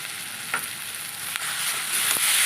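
Ginger paste sizzles loudly in a pan with capsicum and chopped tomato, a steady frying hiss broken by a few light spatula scrapes.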